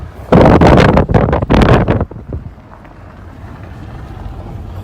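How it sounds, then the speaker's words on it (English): Cold wind buffets the microphone in a remote, open spot, loud rumbling gusts for about two seconds that then ease to a faint, steady rush. "It's crazy how cold and windy the weather is between South Georgia and Nevada."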